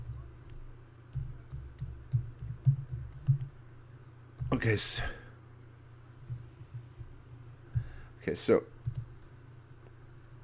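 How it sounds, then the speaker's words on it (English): Someone types into Google on a computer keyboard in quiet bursts of soft clicking over a low hum, broken by two brief louder noises, with a person speaking briefly. "I'm typing in Oumuamua name means, and I'm just doing it into Google."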